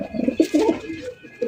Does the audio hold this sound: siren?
no